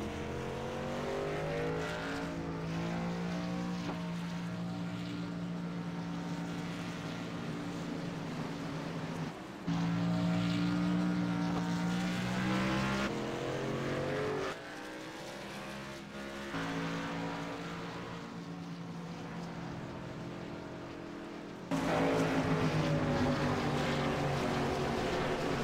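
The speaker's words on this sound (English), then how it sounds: "So the 27 machine, the first car behind the pace car, that is Thomas Morris" Race cars on track during a broadcast race behind a pace car: loud, sustained engine drones that rise and fall in pitch as the cars pass, with abrupt shifts in level as the scene changes.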